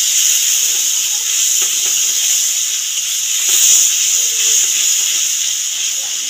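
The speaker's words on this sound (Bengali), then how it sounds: "এবার গ্রেট করা টমেটোটা দিয়ে দেবো। টমেটোটাও ভেজে নেব।" Grated tomato frying in a hot pan, an even steamy hiss that swells slightly midway, close and continuous with faint stirring.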